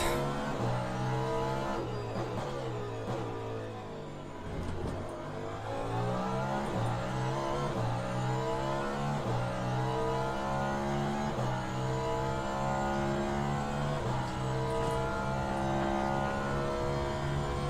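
LMP2 prototype race car engines roar in a racing video game, with sustained high revving that rises and falls through repeated gear shifts, loud and continuous throughout.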